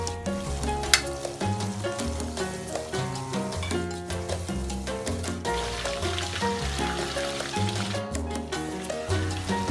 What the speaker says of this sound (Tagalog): I-deep fry natin hanggang sa mag-golden brown.